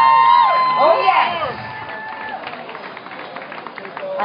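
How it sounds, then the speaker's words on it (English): A crowd at a live reggae concert cheers and whoops, with a few high shouts near the start, then keeps up lighter clapping and scattered cheers. "Wickie, Wackie live, round of applause"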